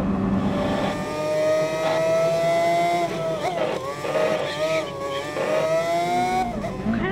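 A race car engine revs and accelerates in the Gran Turismo Sport video game, its steady harmonic whine climbing in pitch with shifts and a few tire squeals. The engine is loud and runs continuously throughout.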